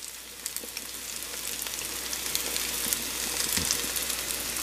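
Okra and squash frying in a pan, a steady bright sizzle with scattered pops and crackles, close and continuous without any talk.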